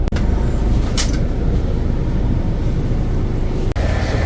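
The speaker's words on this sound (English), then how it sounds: "This station is El Alamein train station." The Haramain high-speed express train between Makkah and Madinah rumbles as a loud, constant interior roar at a station stop, with a brief click near the end.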